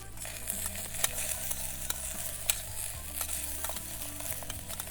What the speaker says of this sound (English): while those are stir frying with the grease from the pepperoni